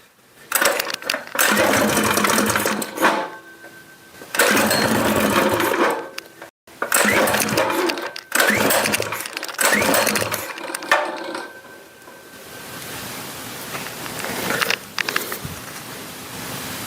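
A small carbureted gas engine runs close by in loud, rough surges that rise and drop several times, with short lulls between bursts and a faint steady tone underneath.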